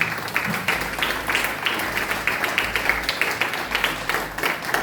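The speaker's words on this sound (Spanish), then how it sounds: "Dale un fuerte aplauso al Señor." A church congregation claps during a sermon, with steady, fairly regular hand claps over a low room hum.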